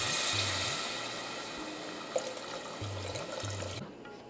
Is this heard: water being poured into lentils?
yes